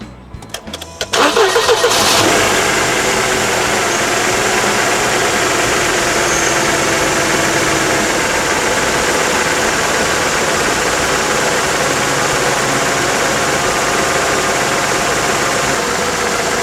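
A Mercedes C230 Kompressor engine, which had been stalling at low idle, cranks briefly, catches and starts, then settles into a loud, steady idle that hums on without interruption.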